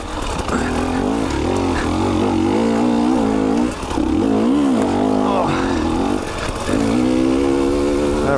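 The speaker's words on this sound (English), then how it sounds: "He's on his 2019 KTM 300 XC." A 2019 KTM 300 XC dirt bike engine drones steadily and loudly while riding along a mountainside, its pitch rising and falling as the throttle is worked, with a short dip midway.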